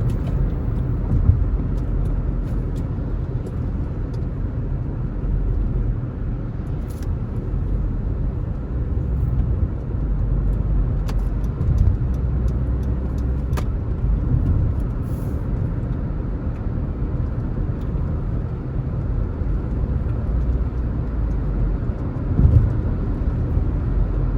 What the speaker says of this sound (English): Alright, so traffic is building up here.